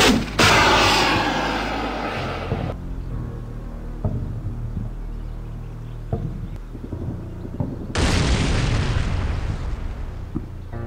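Tanks are destroyed in the war game Combat Mission Shock Force 2: a heavy blast opens, low rumbling follows, and a second powerful explosion bursts near the end.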